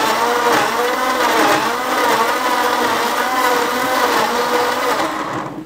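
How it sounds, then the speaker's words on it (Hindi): An electric grinder whirs steadily as it grinds garlic, ginger and chillies for a Lahori goat trotters paya recipe, a loud continuous motor roar that runs throughout and stops abruptly at the end, with no talking. "हम इनको ग्राइंड करेंगे जी"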